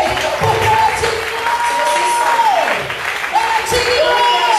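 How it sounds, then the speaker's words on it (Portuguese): Congregation in a church applauding the Lord together, a steady, loud wash of clapping that runs throughout, with a sung or held tone and voices sounding over it. "Você pode aplaudir ao Senhor mais uma vez, porque Ele é digno."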